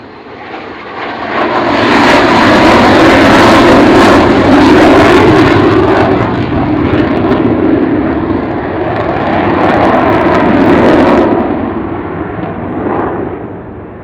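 An Avro Vulcan jet bomber climbs away after a low overshoot with gear retracting at the Royal International Air Tattoo, a loud, sustained roaring engine swell that builds, holds and slowly fades as it passes.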